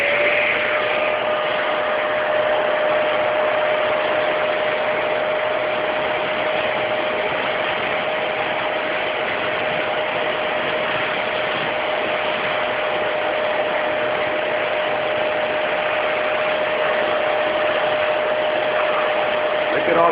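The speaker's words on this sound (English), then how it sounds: "Now, fixing to turn on this vacuum cleaner, and if it's a little loud, excuse it." A vacuum cleaner runs steadily and loudly for the whole stretch while sucking dust out of a PlayStation 3 console, with a constant motor whine and airy rush and no pauses or talk.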